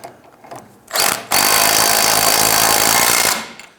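An impact gun spins an 18mm socket on a sway bar link nut of a 2002-2008 Dodge Ram 1500, a loud rattling hammer burst running about two seconds after a few brief clicks and a short whirr.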